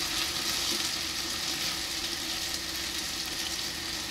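Food fries in a pan with a continuous, close hiss and crackle of sizzling oil, steady and fairly loud throughout with no voices.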